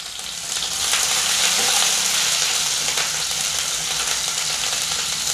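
Finely chopped ginger and green chilies sizzle in hot oil in a pan, a loud, steady frying hiss that swells after the first second and holds without talk.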